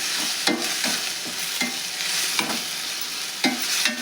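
Dill palya stirred in hot oil in a pan, a steady sizzle with a scrape of the spoon roughly once a second, close and fairly loud, no voices.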